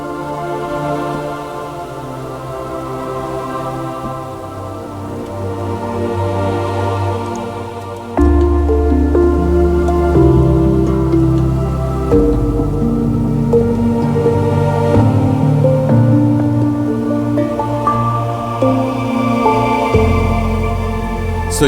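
A lush, sustained synth pad patch from the Omnisphere Mega Magic Violin library, evolving chords that shift and swell, with a fuller bass layer entering partway through, loud and alone without talk.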